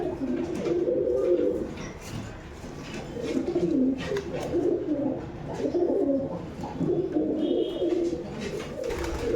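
Rajshahi pigeons in a loft keep up a continuous low, rolling cooing, several birds overlapping close by at an even level.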